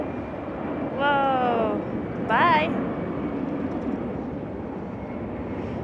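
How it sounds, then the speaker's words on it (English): An airplane passes overhead near a bird park in Nice, France, a steady broad outdoor roar running throughout, with a couple of brief exclamations spoken over it. "Oh, look at the airplane."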